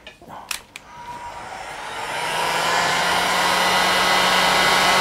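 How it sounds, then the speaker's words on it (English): Heat gun blowing hot air on wood, a steady loud broadband whoosh that builds after a couple of seconds of clicks and handling, then holds constant and close. "obviously the heat gun is quite noisy"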